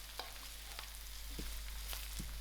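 Mustard seeds and cumin sizzle faintly in a pan for a sour dal, with light intermittent stirring ticks over a low steady hum.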